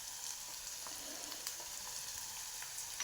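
Onion, tomato and fenugreek-leaf gravy frying in a pan over a flame turned from high to low, giving a steady close sizzle and crackle with faint stirring scrapes and no talk.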